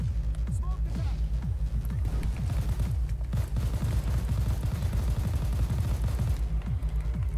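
Gunfire in the heist shooter Payday 2, rapid and continuous, sounds as a dense stream of punchy shots with a low rumble underneath and no pauses.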